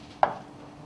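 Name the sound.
vegetable being chopped with a knife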